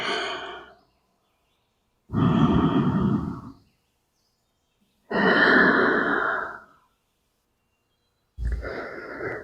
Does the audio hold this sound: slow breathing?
yes